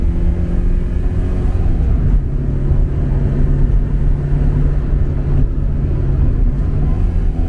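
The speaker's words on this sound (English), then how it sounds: "I actually like the way this engine sounds" A 1982 Porsche 944 engine runs with a steady low drone and rumble, loud and continuous, with no talking.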